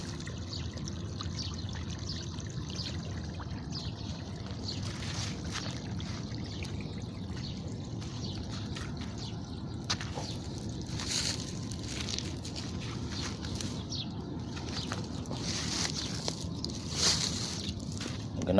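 Water poured from a container onto eggplant plants in a hot garden, a soft continuous trickle and splash with intermittent louder spills, fairly quiet throughout.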